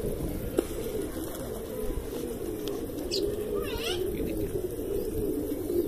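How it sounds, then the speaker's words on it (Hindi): Soft, low coos from Sherazi pigeons repeat over a steady background hum, with a few faint chirps mixed in. "बहुत खूबसूरत कबूतर हैं"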